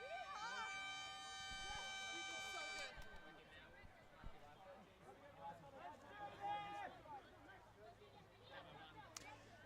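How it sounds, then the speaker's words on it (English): A loud, tonal siren sounds for about three seconds at an outdoor ultimate frisbee quarter-final to mark the end of game time. Crowd noise and a commentator's talk continue after it cuts off. "We just have siren."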